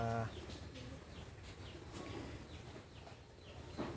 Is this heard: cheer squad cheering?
no